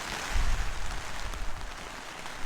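Rain falls at a farm on a windy day, a steady broadband hiss with low rumbling gusts early on, moderately quiet and continuous with no talk.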